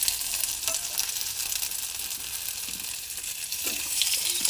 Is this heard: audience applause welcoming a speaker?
no